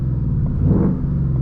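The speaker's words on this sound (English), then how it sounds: "Let's go ahead and get some neutral revs here." A 2021 Ford Mustang Mach 1 with a six-speed manual revs in neutral, a loud, deep engine rumble that swells near the middle and settles back, heard close up with no talking.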